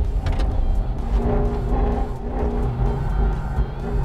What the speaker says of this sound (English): This engine sounds so good in this car.